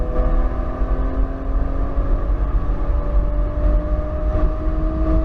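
A 2020 Porsche Macan Turbo accelerating hard on a quarter-mile run, its engine droning loudly with steadily rising pitch, heard from inside the cabin with no talk.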